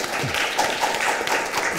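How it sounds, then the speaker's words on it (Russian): Audience applause at a stage presentation in front of a seated crowd, a dense, steady wash of clapping that fills the whole short moment without a break. "Итак, под ваши аплодисменты."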